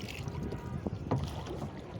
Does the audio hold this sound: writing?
no